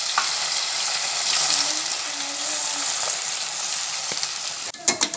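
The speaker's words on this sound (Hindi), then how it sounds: "अब मैं इसमें साबूदाने ये जो मिक्सर है वो डालूंगी।" Sago khichdi mixture frying in a hot sizzling tempering while being stirred, a steady loud sizzle with faint scraping, ending in a few sharp clatters of the spoon against the pan.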